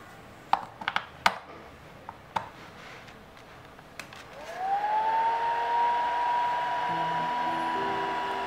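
A few sharp clicks and taps come first, then a battery-powered Hoverball toy's motor spins up to a steady, loud whirring hum, similar to a small hair dryer, and keeps running.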